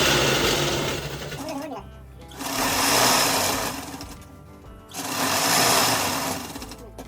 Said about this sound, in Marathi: 10 साड्यांची गोधडी ही आता मी याप्रमाणे अशी शिवत आहे